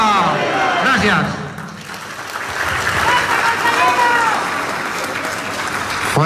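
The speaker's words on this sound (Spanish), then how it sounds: "Fuerte el aplauso para nuestro disertador, nuestro hermano Ramón Quintana" A crowd at a MAS political rally in Bolivia applauding a speaker, Ramón Quintana, with steady dense clapping and cheering throughout, loud and close, with voices shouting over it.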